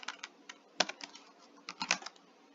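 Quick keystrokes clatter on a computer keyboard as a command is typed, short irregular bursts of close, quiet clicks with a few heavier taps.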